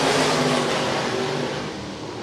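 An open wheel modified race car accelerating down the straightaway at a dirt speedway, a loud continuous engine roar with a rising whine, close and steady over its short length.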